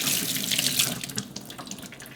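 Tap water runs and splashes over vacuum-packed raw beef being rinsed in a kitchen sink, a brief, close, steady gush with no voices.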